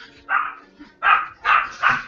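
A puppy barks indoors, four short high yips in an uneven rhythm, close and fairly loud with a faint whimper between them.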